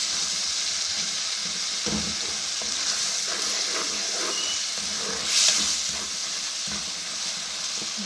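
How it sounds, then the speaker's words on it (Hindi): Spice masala frying for a mixed vegetable curry, a steady broadband sizzle with scattered scraping stirs and one brighter hiss burst midway, close and continuous with no voices. "ये मिला के बहुत अच्छी तरह मसाले को भून लेंगे।"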